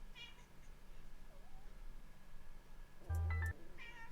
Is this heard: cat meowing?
yes